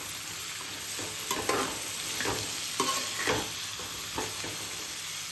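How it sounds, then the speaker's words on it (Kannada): Onions frying in a pan for matar paneer, with a steady sizzle under several soft scraping stirs of a spatula at irregular intervals, close and moderately quiet, with no talking. "ಸೊ ಇದನ್ನು ಚೆನ್ನಾಗಿ ಸಾಫ್ಟ್ ಆಗೋವರೆಗೂ ಫ್ರೈ ಮಾಡ್ಕೊಳ್ಳೋಣ."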